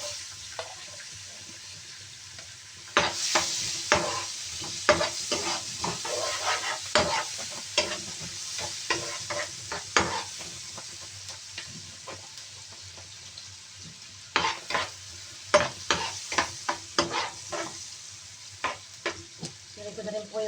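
Chopped onion sizzles in a hot pan while a spatula scrapes and stirs it in quick, irregular strokes. The scraping comes in two busy bursts over a constant frying hiss, close by and loud.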